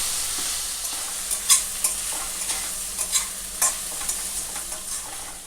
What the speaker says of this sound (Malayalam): ഈ ഉള്ളി നല്ലതായിട്ട് മൂത്ത് വരണം.